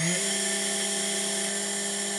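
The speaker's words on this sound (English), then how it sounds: "So let me just try to turn on the spindle anyway." A 2.2 kW water-cooled spindle spins up and holds a steady high-pitched whine, quiet and constant with no talk.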